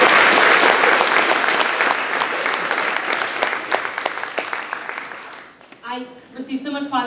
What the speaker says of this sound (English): go ahead and give them a round of applause for all the hard work they've given this year